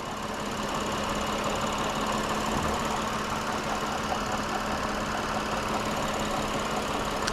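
A 2006 Lexus IS250 with its 2.5 liter V6 runs at a steady idle, giving a continuous low hum with a faint mechanical knock underneath and no talking.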